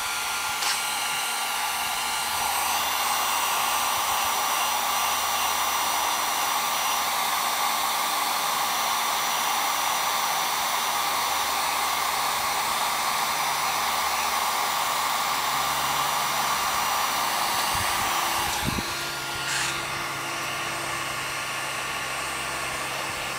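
A heat gun blows steadily on PVC pipe, a continuous loud whooshing roar of hot air that cuts off near the end, leaving a brief clatter and quieter room tone.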